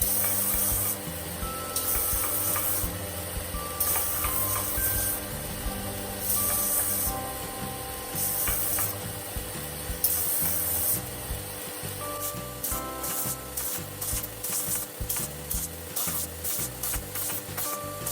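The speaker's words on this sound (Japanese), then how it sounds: "木材の収縮防止剤が乾燥したので400番で磨いていきます" Sandpaper of 400 grit rubbing over a wooden knife handle on a mirror-polished 440C steel kitchen knife, after wood stabilizer has dried; steady close scratchy strokes running continuously, faster and choppier toward the end, no voices.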